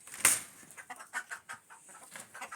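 A black Aseel hen gives a run of short, soft clucks in an irregular rhythm, opening with one sharper call, fairly close and quiet, with no talking.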